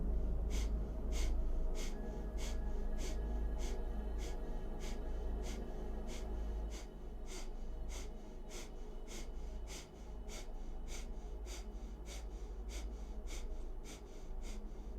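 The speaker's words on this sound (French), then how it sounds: "on va commencer la respiration de feu" Rapid, rhythmic breath of fire from a Kundalini kriya practice, quick forceful nasal pumps repeating evenly at about two per second, soft and close with no speech.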